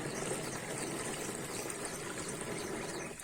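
Water pours through a filter into a 16-litre sprayer pump tank while it is filled for herbicide spraying on a paddy field, giving a steady, soft rushing trickle that is faint and continuous with no talk.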